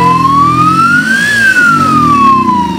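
An ambulance siren wails loud and close outside a health centre in Masaka district, its single tone sweeping up and back down in a long continuous cycle over a low engine rumble.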